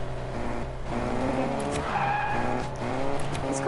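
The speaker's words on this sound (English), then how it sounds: "This car's actually fast." A fast car in a video game roars along with its engine note rising, then its tyres squeal in a sustained skid, loud and close throughout.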